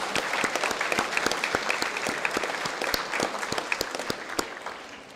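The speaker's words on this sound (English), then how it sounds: "I think you should just give yourself a big round of applause right now" Students at a junior school prize-giving break into a round of applause, a dense, moderately loud wash of many hands clapping that holds steady for a few seconds before tapering slightly.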